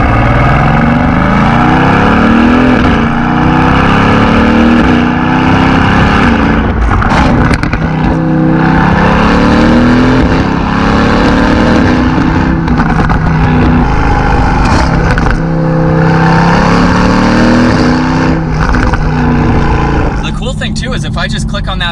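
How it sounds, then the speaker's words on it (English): A 2020 Mercedes-Benz AMG GT V8 in sport exhaust mode accelerates through the gears, a loud, close, rumbling drone that climbs and drops with each shift, with someone talking over it much of the time. "I love the sound of that V8, and I currently have the exhaust in the sport mode right now"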